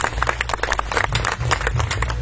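A crowd at a political speech claps together in a dense, rapid patter, loud and close, running steadily with a low hum of the venue underneath.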